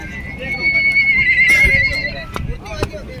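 A horse gives a loud, drawn-out whinny close by at the crowded Nagaur horse fair, with a few hoof clops and the chatter of people bargaining around it.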